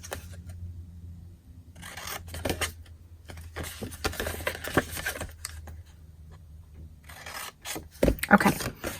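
Scissors cutting a painted paper gift bag along its score lines, heard as close rasping snips and crinkling paper in several bursts separated by short quiet gaps.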